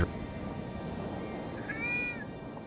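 A cat in Foolish Mortals gives one short meow near the end, clear but fairly soft over a quiet background hum.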